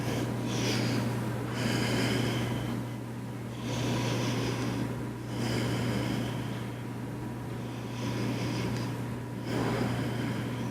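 Slow, deep breaths during a gentle yoga flow while holding locust pose, Shalabhasana, each long airy inhale and exhale rising and falling in a steady rhythm over a constant low hum, close and fairly loud, with no talking.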